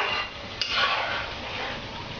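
A spoon stirs namak pare frying in oil in a pan, giving a steady broadband scrape with a sharp clink partway through; no one talks.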